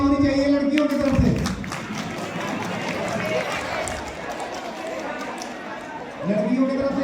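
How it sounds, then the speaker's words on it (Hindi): Girls clap loudly together at a 12th-class school farewell at CM Shri School, Indrapuri, Delhi. The applause is dense and sustained for several seconds, and a voice speaks just before it starts and again as it ends. "ये एक स्पेशल जोरदार तालियां होनी चाहिए लड़कियों की तरफ से"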